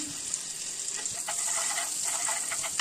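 A tablespoon of butter melting in a hot pan for a Spanish delight cake, giving a steady close hiss with faint crackles and spits throughout.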